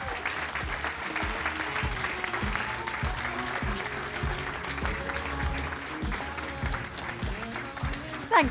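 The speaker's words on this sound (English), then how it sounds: "Give her a massive round of applause for Ellie Mckay" Audience applause welcoming a woman to the stage for a Q&A at a Strength To Succeed event, steady sustained clapping from a large crowd filling the room with a swell near the end, with a voice speaking underneath.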